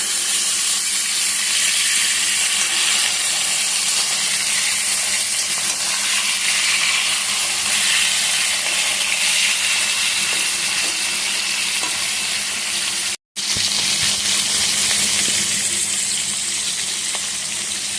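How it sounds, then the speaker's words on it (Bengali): Hilsa fish lightly frying in a pan, a steady, loud, close sizzle with soft stirring and turning noises running throughout, broken only by a momentary cut near the end. "বেশি লাল লাল করে ভাজবো না, হালকা করে ভাজবো।"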